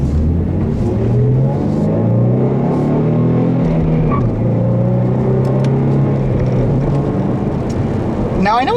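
A 2014 Ford Mustang V6 with a six-speed manual on a test drive, its engine droning loudly and steadily from inside the cabin as it pulls through the gears, the pitch rising, dipping and climbing again.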